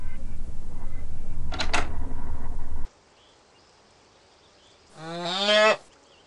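After a stretch of loud rumbling noise and a pause, a single cow moos once, close and clear.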